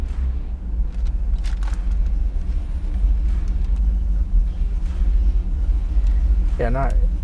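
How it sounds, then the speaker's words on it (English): A 1970 Pontiac Trans Am with a Ram Air IV engine idles at about 750 RPM, a steady deep rumble close by, with a brief voice near the end. "it's just idling as it should. It's at 750 or so RPM."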